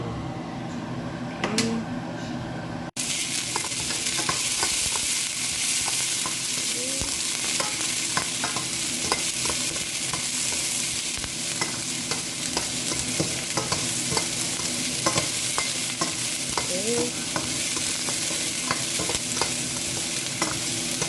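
Chopped onion sautés in a pan for Filipino chicken afritada, a steady loud sizzle broken by repeated scraping stirs throughout, with no talking.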